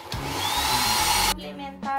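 A hotel bathroom hand-held hair dryer blows with a steady, loud whooshing roar for over a second, then cuts off abruptly before a short burst resumes at the end.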